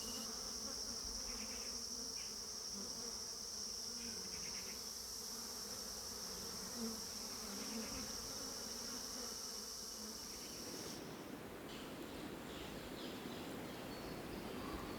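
Worker bees gathering honey in the wild lowlands of Shuklaphanta, Nepal, keep up a steady, dense buzz, with a high insect whine running along with it throughout.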